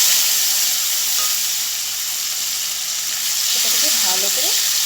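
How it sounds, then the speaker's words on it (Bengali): Chopped tomato frying with bay leaves in a pan makes a steady broad sizzle, with a brief burst of stirring or spatter near the end. A voice speaks faintly underneath. "ভালো করে ভেজে নেব। আর একটা কুচনো টমেটো"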